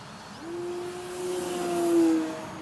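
A Future Model Edge 540T RC model airplane's electric motor at full throttle, a steady buzzing whine that holds a constant pitch and swells slightly as the plane passes, heard from a distance outdoors.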